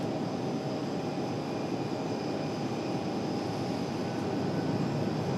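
A Delta airliner departing RDU airport gives off a steady, distant engine drone with faint tonal whine, even and unbroken, no voices.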